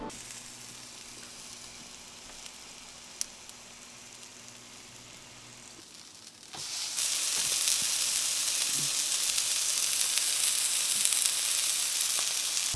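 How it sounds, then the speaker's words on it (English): Burger frying in a pan at home, quiet at first, then a loud, steady, close sizzle of hot fat and meat that keeps going without a break. "The burger's on the pan, the fries are in the oven."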